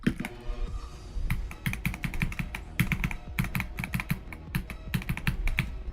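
Fast, close bursts of computer keyboard typing with a hollow, echoey ring to each keystroke, clattering alone in a steady rhythm with short pauses and no voices.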